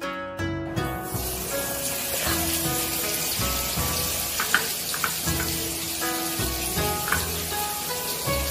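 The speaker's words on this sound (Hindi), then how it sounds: "अब हम स्टेक्स को बिल्कुल शैलो फ्राई कर रहे हैं" Beef steaks shallow frying in olive oil in a pan, a steady dense sizzle and crackle with occasional louder pops, running continuously without talk.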